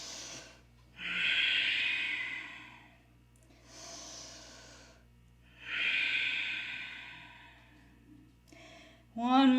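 Deep, slow breaths during a seated yoga forward fold come through close and clear, with long airy inhales and exhales alternating in a steady rhythm and a brief sharper snort at the end.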